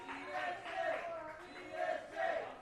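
Wrestling crowd at a live indie show chanting and cheering to rally a wrestler, voices swelling in rhythmic surges about every half second to second, loud and massed with some chatter mixed in.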